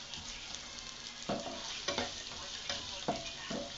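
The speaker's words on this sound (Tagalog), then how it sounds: "Scramble egg." Egg and onion frying in a pan for scrambled eggs, a steady close sizzle broken by a few soft stirring scrapes of a utensil.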